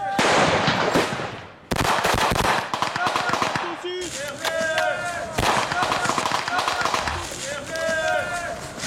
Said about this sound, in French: Deuxième surprise, une simulation d'attaque par l'ennemi.